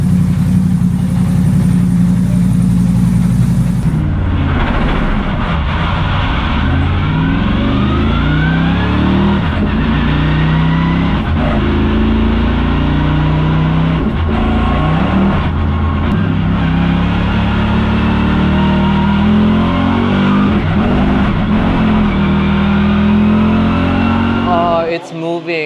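A Mercedes SLS AMG GT3 race car on rain tires cornering hard, its engine loud and close, repeatedly rising and falling in pitch through gear changes and throttle lifts, with a sharp burst at the start.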